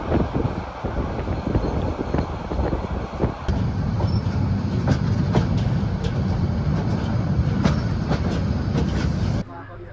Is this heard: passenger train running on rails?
yes